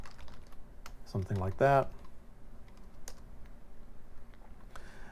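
Light clicking of keys on a computer keyboard as a name is typed into software, quiet and intermittent, with a brief spoken phrase near the start.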